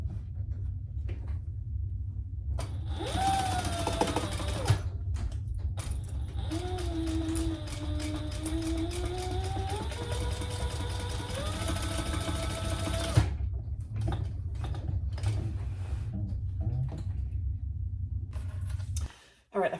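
A sewing machine running in long steady bursts while stitching a bag seam, whirring and whining close by, stopping and restarting, with a voice talking over parts of it.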